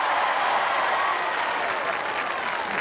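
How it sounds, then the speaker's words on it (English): A spectator crowd at a televised 1987 royal charity games tournament applauds a competitor finishing a course, producing a steady wash of clapping and crowd noise at moderate, even loudness. "Give her a round of applause, please."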